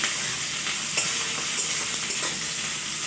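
Steady sizzling of a chicken and potato curry frying in a pan, with occasional scraping clicks of stirring, close and continuous.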